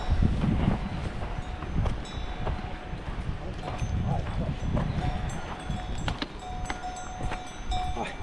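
Goats along a mountain hiking trail near Pogradec, Albania, let out occasional bleats over steady outdoor background noise, with faint voices at times.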